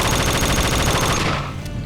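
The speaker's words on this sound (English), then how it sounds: "High fire rate machine pistols is just fun." A fully automatic machine pistol in Half-Life 2 SMOD fires a loud, rapid, continuous burst of shots up close, then cuts off with a short tail at the end.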